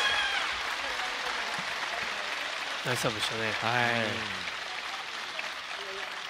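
Applause from the crowd at a professional table tennis league match in a gymnasium, a fairly faint steady patter heard under commentators talking.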